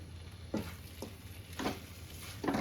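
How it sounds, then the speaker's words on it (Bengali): A spoon stirs jaggery, milk, coconut and khoya together in a pan for nolen gur pathishapta, soft scraping strokes recurring about every half second over a faint steady sizzle. "এবার সব একসাথে মিশিয়ে নিচ্ছি"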